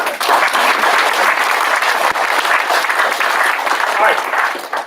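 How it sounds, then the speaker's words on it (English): An audience at a military promotion ceremony at March Air Reserve Base breaks into steady applause. The clapping is dense, loud and close, and it holds evenly for about five seconds with no voices rising above it. "So a round of applause for that."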